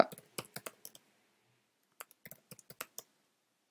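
Quick bursts of keyboard keys clicking, a short flurry, a pause, then another run of taps, close and crisp in a quiet room.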